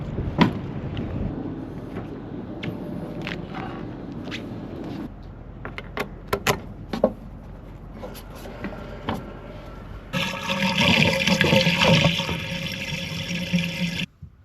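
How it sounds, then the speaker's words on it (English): Dishes clink and clatter in a sink, followed by running water gushing from a tap for the last few seconds, close by. "Nothing to worry about here, guys, just me doing the dishes."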